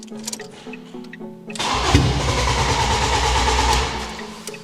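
A car engine, part of a home-built fast family car, cranks briefly and then catches into a loud, rough, sputtering run that lasts a couple of seconds before it fades, heard up close.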